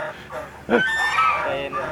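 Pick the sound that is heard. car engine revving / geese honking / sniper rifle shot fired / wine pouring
geese honking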